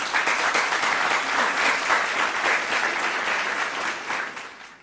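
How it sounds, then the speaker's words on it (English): Steady, dense audience applause at a junior high and basic school quiz contest, a sustained round of clapping from a crowd with no break. "Round of applause, please."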